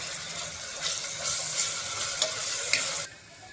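Ginger garlic paste sizzles and fries in a pan after golden onions, stirred steadily for a country chicken curry; a continuous close hiss with soft scraping strokes.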